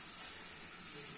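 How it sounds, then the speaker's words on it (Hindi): Roti sizzling in desi ghee on a hot pan, a steady close hiss of frying at low volume, continuous and unbroken, with no talk. "देसी घी की रोटी हमने डाल ली है।"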